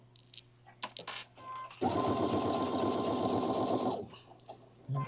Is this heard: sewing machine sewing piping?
yes